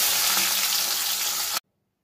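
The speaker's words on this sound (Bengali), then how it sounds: "এবার মাছগুলো একে একে দিয়ে একটু কড়া করে ভেজে তুলে নেব।" Fish fry in hot mustard oil, giving a loud, dense, continuous sizzle close up that cuts off abruptly into silence.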